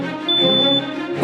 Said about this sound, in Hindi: ये हमारी रसोई में लगा धुएं का अलार्म है।